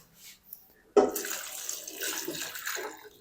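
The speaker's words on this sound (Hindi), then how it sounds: "अब हम इसमें शामिल कर देंगे पानी।" Water splashes into a pan of cut potatoes after a quiet start, a sudden gush that continues as a steady close pour and slosh for a few seconds.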